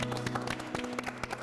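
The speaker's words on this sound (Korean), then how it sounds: "진짜 박수가 절로 나온다" Audience applause at a Korean hearing-loss awareness event, a continuous patter of many hands clapping, moderately close and steady throughout.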